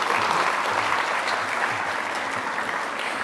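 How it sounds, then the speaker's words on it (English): An audience applauds after a speech at a renewable energy conference, a dense, sustained burst of clapping from a large crowd filling the whole stretch without pause. "Could we have a big round of applause for the speaker, please?"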